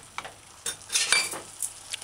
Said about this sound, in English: Add the sauce and stir fry.